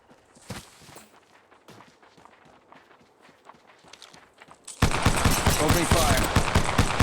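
Gunfire in the video game Apex Legends begins after footsteps and movement, then bursts into a loud, dense stream of rapid automatic shots that fills the last couple of seconds.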